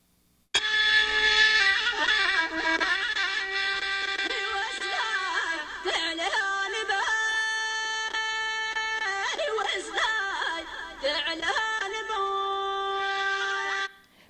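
Algerian Chawi folk music from Biskra, with a wailing reed or pipe melody over steady drones, continuous and loud, with shifting ornamented phrases and no talking.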